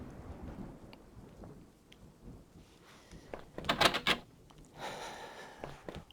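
Thunder rumbles and cracks through steady rainfall in a video game storm, with one sharp, loud crash midway followed by a rolling roar, all under a constant hiss of rain with no voices.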